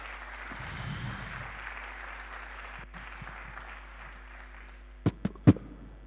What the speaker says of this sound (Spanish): fuerte aplauso porque va a cargo de José Gallardo